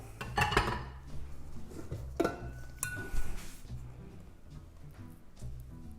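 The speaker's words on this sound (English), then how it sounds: "So we are going to transfer our dough to our greased bowl" Sticky cinnamon roll dough moved into a greased bowl, producing a few dull knocks and clatters of the bowl and utensils, with louder bumps early on and then softer handling noises nearby.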